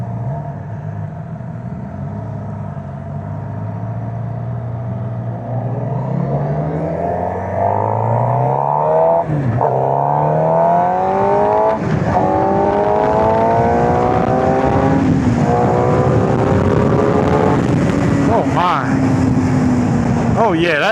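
A Suzuki Hayabusa motorcycle engine revs hard during a wheelie, loud and close, its pitch climbing in repeated sweeps as it pulls through the gears over steady wind and road noise.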